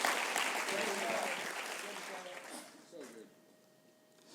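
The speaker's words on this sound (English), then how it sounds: "give him a round of applause" A crowd applauds steadily, the clapping fading out over a few seconds while a voice speaks faintly over it.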